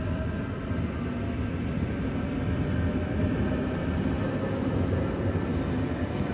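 A Trenord train, a coupled pair of short three-carriage sets running in northern Italy, rolls past with a steady, loud rumble and rattle that holds evenly for several seconds, with no voices over it.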